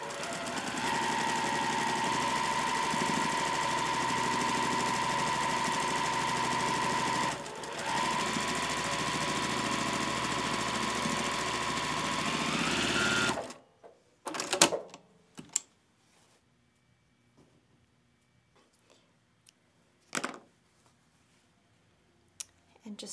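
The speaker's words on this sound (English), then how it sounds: "I'm going to chain stitch my next row." A sewing machine chain-stitches rows of quilt blocks, a loud, steady mechanical whirr running for about thirteen seconds before stopping abruptly, followed by quiet with a few short clicks and handling noises.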